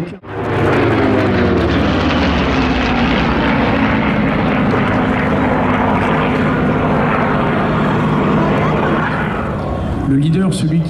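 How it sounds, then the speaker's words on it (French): Twin-engine Lockheed P-38 fighter flying past at an air show in Melun, a loud sustained propeller engine roar with a droning, shifting pitch that fades near the end. "c'est le P-38. C'est un avion étrange avec sa double poutre."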